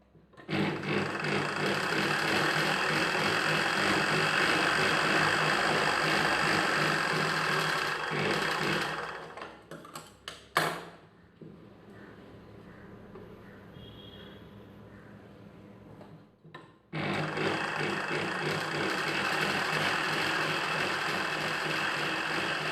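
An electric sewing machine stitches cloth for a child's pattu langa, whirring steadily for about nine seconds, pausing with a few handling clicks, then starting again for the final stretch.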